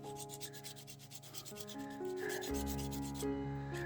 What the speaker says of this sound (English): So first some sanding, yeah?